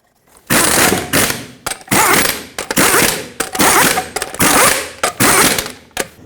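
An impact wrench drives lug nuts onto the front wheel of a 2003-2009 Toyota 4Runner, firing in about seven loud, close rattling bursts separated by short pauses.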